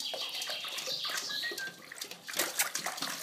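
A child splashes in a small tub of water outdoors, making close, irregular sloshing and dripping that swells and fades, with a few faint bird-like chirps behind it.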